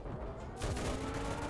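Sudden loud burst of gunfire in the Enlisted war game, erupting after a brief lull into dense, rapid shots that fill the short clip.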